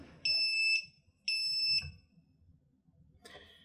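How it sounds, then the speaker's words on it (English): Two long, shrill electronic beeps from a drone receiver in failsafe mode sound in quick succession, followed by a brief fainter chirp near the end over quiet background noise. "it's going to start giving that beeping noise that you get when you've gone into failsafe"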